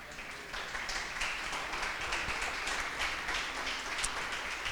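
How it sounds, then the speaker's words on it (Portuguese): Congregation at a church service applauding, a steady wash of many hands clapping at moderate distance, fairly soft and sustained throughout with no other sounds on top. "Se assente e dê um aplauso a Jesus mais uma vez."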